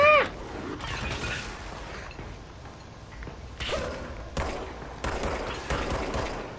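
Gunfire from Control aimed at the player, heard as scattered sharp shots and bursts with whooshing impacts over a moderate, busy game soundscape.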